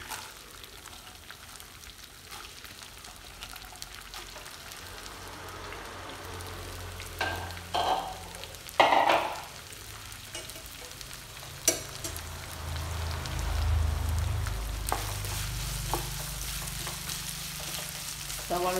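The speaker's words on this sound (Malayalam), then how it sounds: "നമുക്ക് സവാള ഇട്ട് ആദ്യം സവാള ഇടാം." Onions sizzle and fry in a pan for a chicken curry, a steady low crackle with a few louder stirring scrapes and bursts partway through, growing fuller and denser toward the end; no voices.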